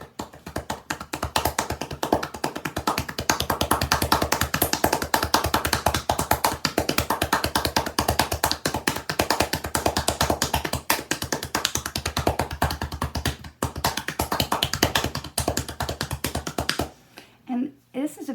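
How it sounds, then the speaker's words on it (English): Rapid tapotement percussive massage on the back during a scoliosis treatment, a dense, fast, steady rhythm of close, loud slaps that continues for most of the stretch and then stops abruptly near the end. "the tightening technique that we can do is tapoma"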